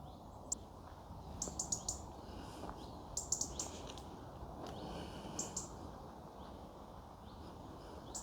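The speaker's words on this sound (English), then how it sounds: "There's some noises, there's some birds that want to say hello to you." Birds chirping in a forest, several short bright calls and tweets scattered through a quiet outdoor ambience, fairly faint and with no talking.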